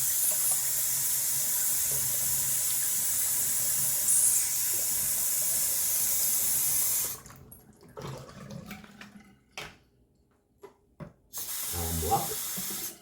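Cold water runs from a bathroom tap during a wet shave, a steady bright hiss for about seven seconds before it cuts off, leaving quiet handling sounds and brief splashes.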